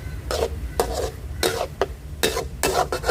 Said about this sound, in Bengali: ডালটা একেবারে কষাবো।